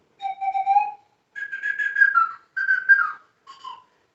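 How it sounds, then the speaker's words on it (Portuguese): An indigenous-style whistle is blown in four separate tones, the first lower and the rest higher, each clear and close with short gaps of silence between. "Então esse apito"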